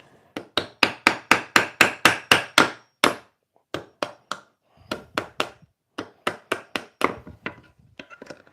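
An old framing hammer strikes wood repeatedly during cabinet-door woodworking, a rapid run of about ten sharp blows, a pause, then two more irregular bursts of strikes, loud and close with no speech.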